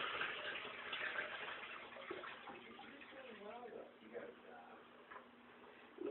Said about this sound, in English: Now it's time to add some water.